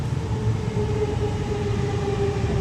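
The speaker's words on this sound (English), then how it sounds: "The fucking train." A train in Japan rumbles steadily past, a continuous low roar with faint tonal whine holding level throughout, heard at moderate distance.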